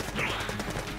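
A Gatling gun boss in Enter the Gungeon unleashes dense, rapid automatic fire, a loud and continuous stream of shots in a short burst.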